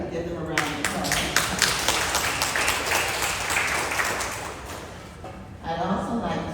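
An audience claps in a round of applause, a dense steady patter of many hands lasting several seconds before tapering off, with talking heard around it.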